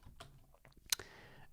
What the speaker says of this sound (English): I'm just going to now run the server by typing in run server